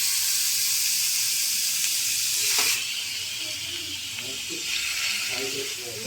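Chicken frying in a pan, a steady close hiss and sizzle of hot oil, loud at first and then slightly softer, with faint background sounds.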